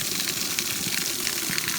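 Water pours steadily past the stone wall of an old water wheel site in Wales, a constant close rushing gush with no break and no voices.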